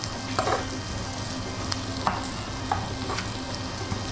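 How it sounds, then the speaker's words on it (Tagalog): Onion, chili and ginger sautéing in a pan for a coconut-milk stingray dish, giving a steady sizzle with occasional stirring scrapes and clicks, close and moderately loud, with no talking. "Okay na yung gisa na yan, master. Nagkagisa nung onion."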